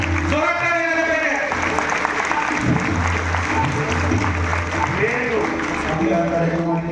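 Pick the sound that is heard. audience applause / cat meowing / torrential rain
audience applause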